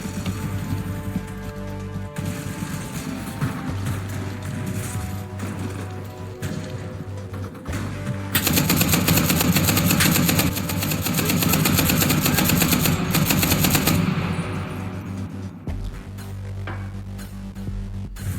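Sustained automatic weapon fire from the World War II shooter game Enlisted, with dense, continuous bursts over a steady rumble and a louder, heavier stretch of firing midway.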